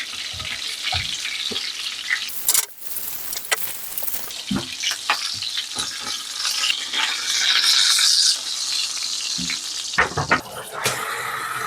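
Chicken cutlets frying in a pan give a continuous close sizzle with light crackling, broken by occasional knocks and scrapes of a utensil.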